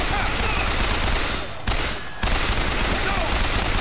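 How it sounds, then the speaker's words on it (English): Enemy gunfire in Bioshock Infinite, dense rapid shots crackling almost continuously with a brief lull in the middle, loud and close. "they're shooting me from over that direction"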